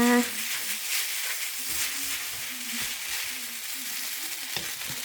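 Mixed ingredients with shrimp and holy basil sizzle and crackle steadily in a hot wok during a Thai drunken-style stir-fry, with scraping stirs repeating throughout at close range.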